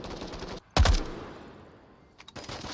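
A flashbang and gunfire in the VR shooter Onward: a sudden loud burst after a brief hush, followed by a long decaying ring, then a quick crackle of shots before steady game ambience resumes.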